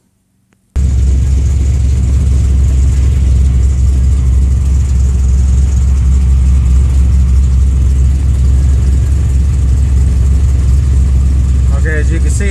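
A flooding car engine that can't take gas, running loud and close in a steady, heavy rumble that starts abruptly after a moment of quiet and holds a constant drone throughout.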